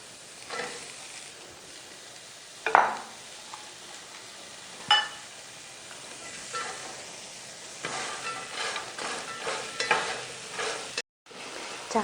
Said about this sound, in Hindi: इसमें चीनी शामिल करके इसमें गाजर हमने फ्राई करनी है चीनी में